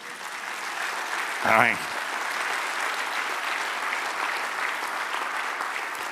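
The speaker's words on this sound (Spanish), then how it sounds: "Dale un aplauso, Señor." Church congregation applauding, a sustained, even wash of clapping from a crowd, with a voice briefly calling out over it near the start.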